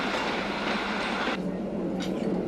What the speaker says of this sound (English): the train has to reverse, such as here at Innsbruck